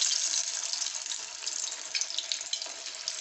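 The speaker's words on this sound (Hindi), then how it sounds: "अब हम इनको फ्राई कर लेते हैं, इनको जो है हम डीप फ्राई करेंगे।" Meatless nuggets made without chicken or egg are deep-fried in well-heated oil, giving a continuous bright hissing sizzle up close with small bubbling flutters throughout.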